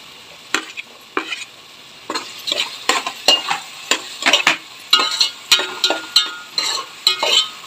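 Ginger-garlic paste and green beans stir-fried in a pan for veg fried rice, with rhythmic scraping strokes of a spatula repeating steadily over a close, constant sizzle.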